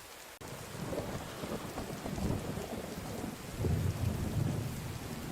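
A thunderstorm with steady heavy rain and rolling thunder, a deep rumble building from the start and swelling again near the end, heard close and loud with no voices.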